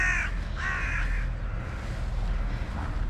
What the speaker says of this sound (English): I don't know why the crows are so upset.